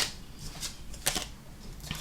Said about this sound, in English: I like to shuffle on camera for you guys.